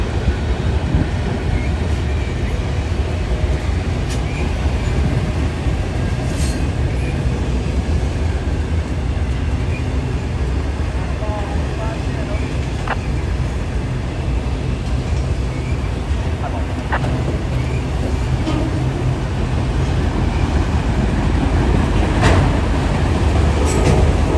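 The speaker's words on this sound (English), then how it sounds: "I hear another train." A Union Pacific train rumbles past at steady volume, a continuous low roar with rattling and clanking throughout, no pauses.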